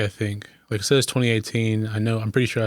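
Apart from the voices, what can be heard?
No everyday noise stands out behind the speech.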